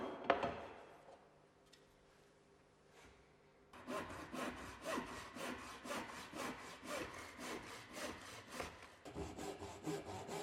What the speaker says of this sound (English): Repeat the method demonstrated to cut the other scribe, only this time the angle of the saw cuts will be slightly increased.